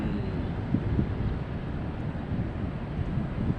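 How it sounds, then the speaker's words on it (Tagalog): Strong wind buffets the microphone with a constant low rumble and gusty thumps, steady throughout with no voices. "sobrang lakas po ng hangin"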